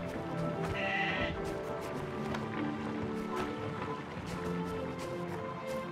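Sheep bleating amid busy sounds in the game Cornerstone: The Song of Tyrim, with a steady background of clatter and movement throughout.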